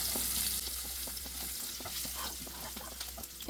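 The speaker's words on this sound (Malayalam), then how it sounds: "ഒന്നിളക്കി കൊടുക്കാം ഒരു മിനിറ്റ് ഒന്ന് ഇതുപോലെ ഒന്ന് മിക്സ് ചെയ്തെടുക്കാം" Ingredients for Afghani egg curry sizzle and fry in a pan while being stirred, with steady crackling and soft scraping strokes, close and continuous, no talking.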